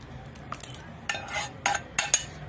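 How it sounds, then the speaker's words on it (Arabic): Spoon scraping and clinking against a pot while rice is stirred with mixed dill, coriander and parsley and tomato sauce, a few short close scrapes with no voices. "واقلبهم كويس مع بعض"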